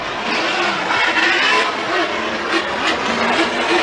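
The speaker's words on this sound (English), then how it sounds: "Von Gittin Jr. leading that Monster Energy Ditto Tire Mustang" Formula Drift cars racing in a top-16 battle at Atlanta, including the Monster Energy Mustang, a loud, continuous roar of engines and screeching tires heard from the track without talking.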